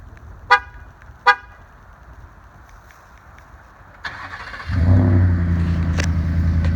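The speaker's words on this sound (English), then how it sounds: "Alright, here's the truck all done. We'll fire it up." A starter cranks twice, then the 5.0-litre V8 of a 2019 Ford F-150 pickup with shorty headers and an aftermarket exhaust catches and settles into a loud, deep, throaty idle close by.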